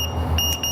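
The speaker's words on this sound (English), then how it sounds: "then I can turn off that alarm, just like on all Draeger meters" Alarm from a Dräger X-am 3000 gas meter during calibration, shrill electronic beeps pulsing close and loud in quick repeats.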